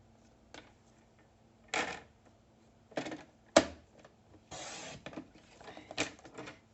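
Small paper pieces being cut for a scrapbook album page, heard as a handful of short, crisp snips and clicks spaced irregularly against near silence.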